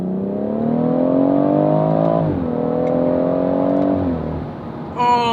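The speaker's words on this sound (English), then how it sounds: "the sound of that inline 6 is magnificent" A BMW M140i's inline-six revs loud and close, its pitch climbing steadily, dropping back at a shift, then rising again before falling away near the end.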